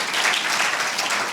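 A church congregation applauds together, a dense, steady wash of many hands clapping at once, loud and even for a brief moment with no voices.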